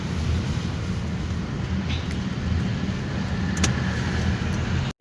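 A car drives along a road toward a tunnel, giving a steady broadband road and engine roar close by, continuous throughout and cutting off abruptly at the end.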